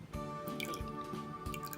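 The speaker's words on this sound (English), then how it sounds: "now we are going to pour in our borax" Borax solution poured a little at a time into a clear water-based slime mixture, giving a few close, soft wet drips and squishy plops over a faint steady background tone.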